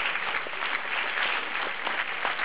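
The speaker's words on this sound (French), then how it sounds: "donc on les applaudit" Audience applause at a fantastic film festival awards ceremony in Paris, a brief burst of dense, steady clapping from a crowd.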